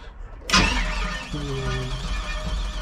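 A twin-turbo LS V8 engine in a Mk1 Ford Escort with low compression cranks and catches after a short silence, then settles into a rough, uneven idle up close.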